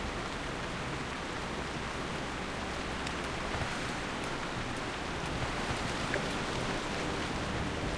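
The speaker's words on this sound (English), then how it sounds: "This rain isn't making me feel any cooler." Steady rain falling in World of Warcraft, an even hissing wash of drops at low level that continues without a break, with no talking.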